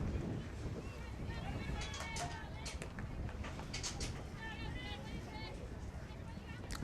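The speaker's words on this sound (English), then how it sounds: "That wind picks up again." Wind gusts across a softball field, a broad, constant rushing roar buffeting the microphone throughout while birds chirp faintly in the background.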